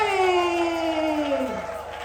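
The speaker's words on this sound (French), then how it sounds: "Est-ce qu'on peut honorer Dieu par nos acclamations?" A church congregation raises a loud, sustained cry of acclamation, one strong voice holding a long, falling note over a crowd cheering close by.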